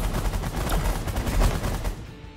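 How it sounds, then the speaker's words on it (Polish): Rapid automatic turret fire aimed at enemies in The Last Federation, a dense unbroken stream of loud shots that fades out near the end. "I automat, niech strzela do wrogu."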